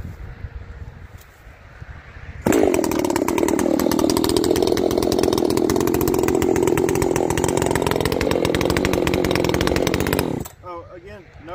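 A ported Echo 590 chainsaw with a rough tune roars at full throttle, loud and close. It starts abruptly after a quiet idle and holds a steady buzzing whine for about eight seconds, then drops back.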